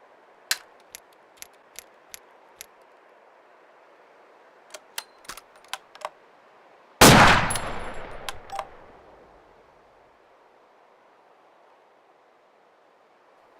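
Rifle rounds fired in the military video game Arma 2: scattered sharp cracks spaced apart, then one much louder close blast at the midpoint with a decaying rumble, a few more shots after, all without talk.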